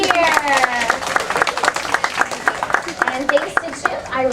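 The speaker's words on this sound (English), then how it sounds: "Let's give Chip a big cheer." An audience at a Belle storytime show claps and cheers for a story character. Dense rapid clapping runs throughout, mixed with excited raised voices.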